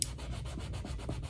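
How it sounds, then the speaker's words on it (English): Vachetta leather on a vintage Louis Vuitton Noe GM bucket bag being rubbed, a soft, steady swishing in even back-and-forth strokes, faint and close, with no talk. "Unless maybe you go very aggressive with the rubbing, but you know, I don't want to hurt my vachetta leather too much"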